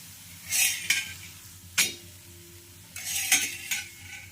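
A methi and jowar flour paratha roasting on a hot pan, with intermittent scraping and flipping scuffs against the pan over a faint low sizzle, close and moderately quiet, without voices.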